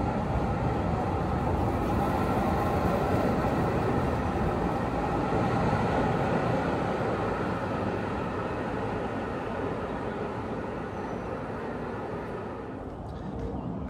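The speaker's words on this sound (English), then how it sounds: "that is the Peak Tram tracks, and judging from the sound, we got one coming" Peak Tram funicular on its tracks near May Road in Hong Kong, heard as a steady, loud, broadband rumble that holds for the whole stretch and eases slightly toward the end.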